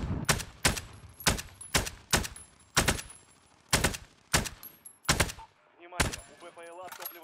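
Gunfire in Warzone on the Caldera map: about a dozen sharp, loud shots in a steady rhythm roughly half a second apart, close and punchy, with a brief voice near the end.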